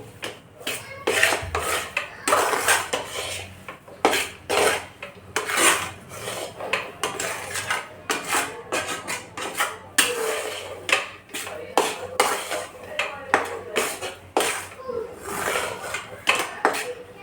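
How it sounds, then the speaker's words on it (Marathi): A spoon repeatedly scrapes and stirs gram flour roasting in ghee with nutmeg powder in a pan for besan barfi, giving rhythmic close rasping strokes. A faint voice talks underneath. "थोडंसं ब्राऊन होईपर्यंत भाजायचं बेसनाला"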